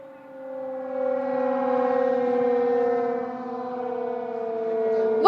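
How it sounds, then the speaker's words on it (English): A steady, loud air raid siren wails continuously in Delhi, holding a sustained droning pitch with layered harmonics, with no voices over it. "Gargi, you can hear the air raid sirens that are currently blaring"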